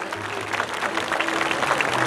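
Audience applause for a folk dance group at a Saint Anne's Day festival in Dagda, a dense, loud wash of clapping throughout with a faint voice beneath.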